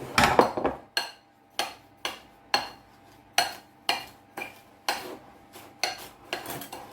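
Butter and sugar being creamed by hand in a bowl for a Christmas cake, a spoon knocking and scraping against the bowl in a steady rhythm of about a dozen close, distinct strokes with no talking.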